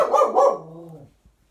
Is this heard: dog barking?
yes